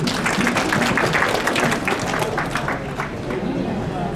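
An audience claps at a women's peace forum at UN headquarters, a loud, thick wash of clapping with crowd murmur and voices mixed in, fading slightly toward the end.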